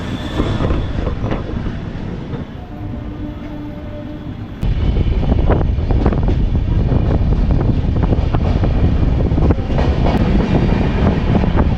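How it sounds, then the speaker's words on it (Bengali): An express train pulls out of Howrah station bound for Digha, its steady rumble and clattering wheels rising louder after a few seconds, with wind buffeting the microphone throughout and no talk. "এক ঘন্টা পর হাওড়া স্টেশন থেকে তামলুকতে এক্সপ্রেস দীঘার উদ্দেশ্যে রওনা দিল"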